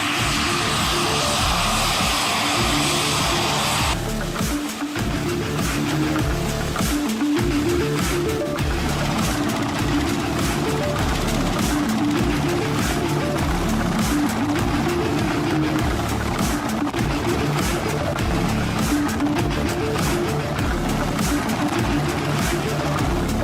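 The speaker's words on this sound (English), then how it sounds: "a very special helicopter, the Mi-24, known as the Hind or Satan's Chariot for some" The engine of an Mi-24 Hind helicopter drones loudly and steadily at close range, a dense continuous roar with a low throbbing beat that never lets up.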